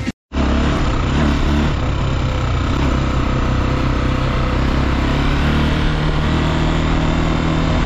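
A parked motorcycle engine idles at a fair ground during a Dashain festival in Parbat, Nepal, a loud close steady drone with a low throbbing rumble and no speech.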